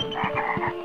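A dragon toad in the video game MediEvil croaking in a quick run of deep, throaty pulses, loud and close with no speech.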